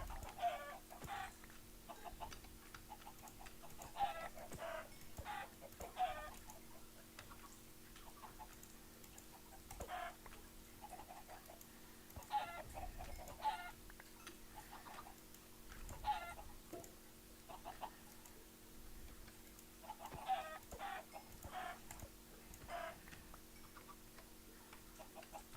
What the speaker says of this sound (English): Hey, you got more chickens.